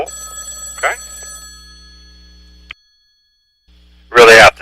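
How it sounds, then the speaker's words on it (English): A landline telephone wired into a soundboard rings in short, loud electronic bursts, one early and a louder one near the end, separated by a quiet gap, with a voice also present. "I am a little upset about the phone ringing right now"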